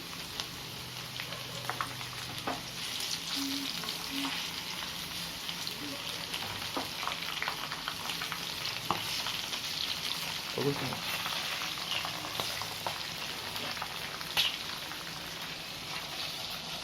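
Loose sweet corn kernels fry in hot oil over a medium flame, making a steady rain-like crackle with occasional sharper pops and light clinks, moderately close and fairly quiet.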